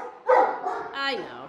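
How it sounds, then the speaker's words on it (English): A Great Dane lets out a couple of deep barks and yips indoors in a dog room, fairly close and loud, with a brief whine at the end. "Now they're gonna start barking at that lap."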